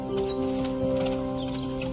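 Horses' hooves clip-clop in a steady, close rhythm, with a sustained tonal hum running underneath throughout.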